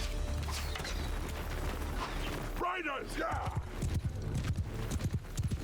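Horses' hooves clip-clop in Mount & Blade II: Bannerlord as mounted archers ride through battle, rapid irregular thuds with creaking gear and a brief whinny, under a commentator's voice.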